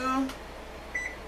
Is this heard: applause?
no